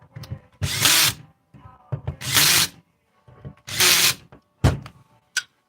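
A power drill drives screws while a 727 transmission with a trans brake is being built. Four loud, close whirring bursts alternate with quiet pauses and softer handling clunks, ending in a short final spin.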